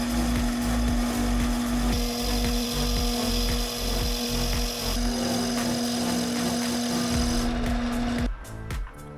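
A lathe machines a motorcycle sprocket for a BTX Volt, trimming it to 52 mm by taking 2 millimetres off, with a steady loud mechanical whine and hum and a constant tonal drone that cuts out near the end.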